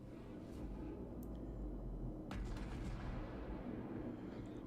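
A Murmansk cruiser in a naval warfare game fires a shot, a deep distant boom over a low rumbling background, followed by a muffled rolling report.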